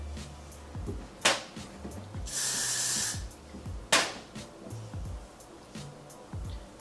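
Gotta Be Glue hair spray is sprayed onto a sleek ponytail in one sustained burst of hiss lasting about a second, close by, among soft handling clicks and rustles.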